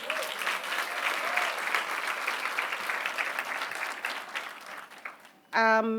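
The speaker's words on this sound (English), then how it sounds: "I think we need to give her a round of applause." A crowd claps steadily in sustained applause for a speaker at a conference, gradually fading, then a voice begins speaking loudly right at the end.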